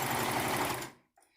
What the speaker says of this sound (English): I'm going to stitch the bottom, just one straight stitch along the bottom, or one serge stitch